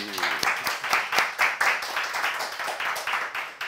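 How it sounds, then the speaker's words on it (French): Applause from a church congregation gathered for preaching, a few seconds of moderately loud clapping in uneven bursts, fairly close and with no talk over it. "On les applaudit!"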